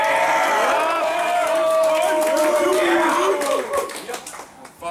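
A rap battle audience claps and cheers after a round, a swell of crowd applause with voices mixed in that thins out and fades toward the end.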